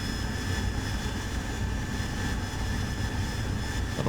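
Steady jet engine roar from an AV-8B Harrier in the DCS flight simulator as the throttle is eased, a dense, continuous broadband rumble with high whine tones holding evenly throughout.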